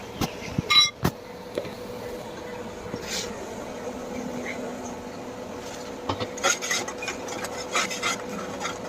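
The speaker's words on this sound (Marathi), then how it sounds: "छान परतून घेणार मी जरा तेल सुटेपर्यंत" Masala for masoor amti being sautéed in oil in a pan, a steady low scraping and stirring texture with a few sharper clinks and rubs, fairly quiet and continuous with no talking.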